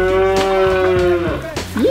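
A dairy cow moos once, long, loud and close, a sustained low call that bends upward at the end, with no talking.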